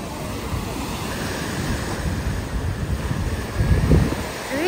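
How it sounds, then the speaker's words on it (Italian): Rough, choppy sea surf at a beach, a continuous broad wash of waves with gusting wind noise buffeting the microphone and a louder surge near the end. "Ecco papà Elena, ma il mare è proprio mosso."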